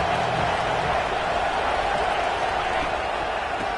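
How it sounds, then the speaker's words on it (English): A college football stadium crowd roars steadily on a third down, a dense, sustained wash of cheering with no breaks. "Crowd getting this defense whipped up on third down."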